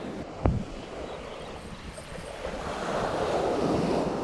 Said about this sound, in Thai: คลื่นแรงมาก